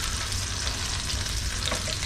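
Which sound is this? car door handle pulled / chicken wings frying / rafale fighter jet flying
chicken wings frying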